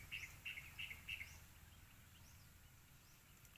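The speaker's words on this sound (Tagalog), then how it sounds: "Maririnig mo lang yung huni ng mga ibon," Birds chirp at a mountain camping site, four short bright calls in the first second and a half, then quieter scattered tweets over a soft, steady outdoor background with no talk.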